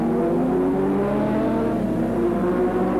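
Honda 500 superbikes race at Oran Park in 1980, with a continuous loud engine drone and shifting harmonic whine as the bikes hold revs in wet conditions.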